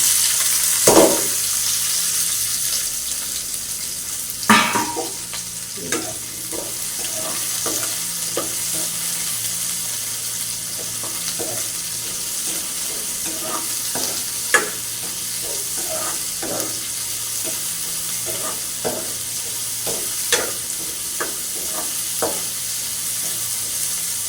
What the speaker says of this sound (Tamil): வெங்காயம் பொன்னிறமாக வரும் வரைக்கும் நல்ல வடிவா வதக்க வேணும்